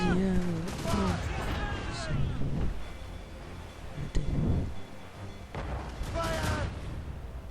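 Heavy ship cannon fire booms during a naval battle in Assassin's Creed Rogue, with a few separated blasts landing among frantic shouted crew voices and a sharp shot near the middle.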